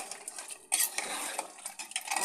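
A spoon scrapes and clinks against a pot while mutton yakhni pulao is stirred and mixed, a run of close metallic scrapes and taps with no talking.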